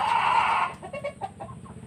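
Native roosters fighting squawk loudly in a harsh burst, then a series of short agitated clucks and cackles follows close by.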